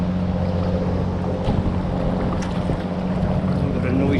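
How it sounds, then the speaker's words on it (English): A noisy speedboat passes near a kayak on very choppy coastal sea, its engine a steady low drone beneath wind buffeting and water slaps around the paddler. "We've got a noisy speedboat."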